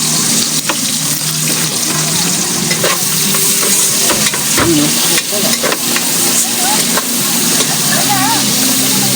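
Onions caramelizing in a pan over a campfire by the seaside, a loud steady sizzle with stirring scrapes and occasional clinks, and someone talking faintly beneath.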